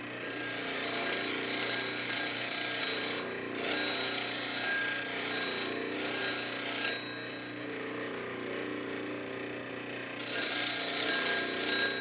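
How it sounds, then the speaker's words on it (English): A grinding wheel cuts a hardened steel dovetail chisel, giving a loud, continuous, high-pitched grinding whine with brief dips in intensity as the work is shifted against the wheel, close up and without speech. "You don't want to overheat it and take the temper out, but this wheel cuts so cool"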